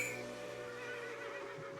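A horse in the Roblox game Dead Rails lets out a drawn-out, quavering whinny, faint and alone.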